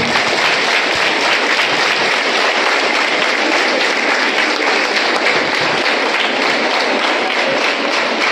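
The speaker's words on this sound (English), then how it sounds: "Big round of applause." Dense, continuous applause from a large student audience giving a standing ovation after a school principal's speech, a loud, even wash of many clapping hands lasting several seconds without speech.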